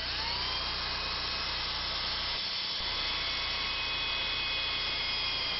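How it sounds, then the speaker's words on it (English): An electric mixing paddle churns thinset made from liquid latex and Portland cement, giving a steady, loud motorized whine with a constant droning hum throughout and a brief dip midway. "since it is fairly prone to lumps, I'm using the electric mixing paddle."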